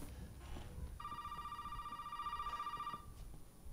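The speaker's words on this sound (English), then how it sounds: "Oh, another phone call from Zoe." A telephone rings in the horror video game Resident Evil 7: a steady, electronic trilling tone that starts abruptly, holds for about two seconds, then cuts off, heard over low ambient game sound.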